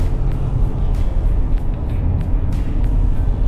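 A 2024 Porsche Cayenne in Sport mode drives along with a steady, close engine rumble and road roar, the level held constant throughout with no talk over it.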